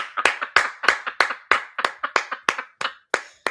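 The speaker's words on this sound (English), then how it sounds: "Can we give God a hand clap of praise for the English language?" A worship congregation claps in a loose, uneven rhythm, each sharp hand clap distinct and close, about a dozen strikes in a few seconds with no talking over them.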